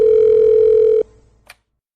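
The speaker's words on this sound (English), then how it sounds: "December 27th, a chilling phone call changes everything." A telephone rings with one sustained electronic tone lasting about a second, then cuts off, followed by a faint brief click.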